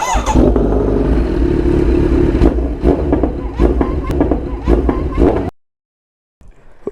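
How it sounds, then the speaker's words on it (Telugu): A Kawasaki Z900 motorcycle engine roars and revs up close, loud and rough with sputtering bursts, then cuts off abruptly into silence. "ఏమ్రా బ్రూనా, అరుస్తున్నాం బండి సౌండ్"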